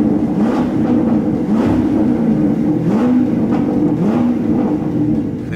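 A car engine idles while warming up, a steady low rumble with a wavering, lumpy pulse that rises and falls slightly, close and alone with no talk.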